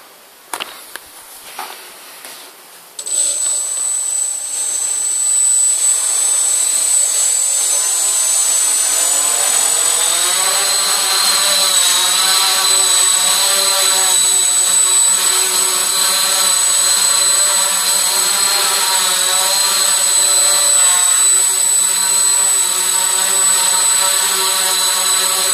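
A tricopter drone's motors spin up after a few clicks and settle into a loud, steady whine as it hovers nearby, the pitch rising and holding constant.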